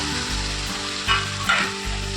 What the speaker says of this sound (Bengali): দেখো বন্ধুরা, মশলা থেকে তেল ছেড়ে দিয়েছে, এবার আমি পটলগুলো দিয়ে দেবো।